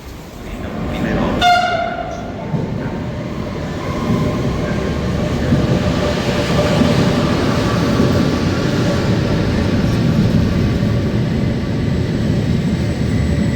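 A train at a station platform in Turin, a brief horn blast early on, then a continuous loud rumble of the train with the platform ambience around it.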